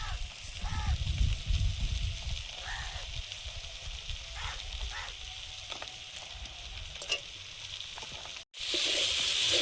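Fish, lata fish being cooked for a spicy curry, hitting hot oil in a pan with a loud sizzle at first, then a steady frying hiss that continues with faint clatter, ending in a sharp burst of sizzling.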